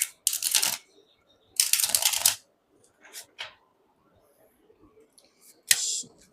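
Tarot cards are shuffled in several quick riffling bursts, close and crisp, with short pauses between them and a few soft taps and clicks in the gaps.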